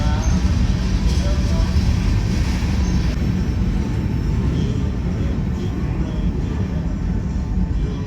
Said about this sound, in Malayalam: സൈഡിൽ കൂടെ ഗുഡ്സ് ട്രെയിൻ പോകുന്നുണ്ട്.